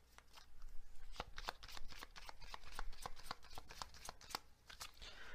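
Tarot cards shuffled by hand in a quick, steady riffle of crisp slaps and flicks, close and fairly loud, with no talking.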